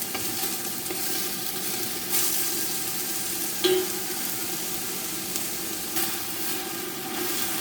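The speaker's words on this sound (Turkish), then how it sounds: "Soğanımızla bolqar biberimiz kızarmaya başladıqda üzərinə ətimizi də əlavə edirik." Chopped onions and bell peppers fry in a pan, giving a steady, close sizzle with soft stirring scrapes and a few brief louder bursts. No one speaks.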